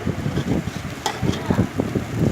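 Zarda sweet rice with mixed colours being stirred and tossed in a pot, giving soft, steady scraping and shuffling sounds with a faint sizzle underneath, close and continuous.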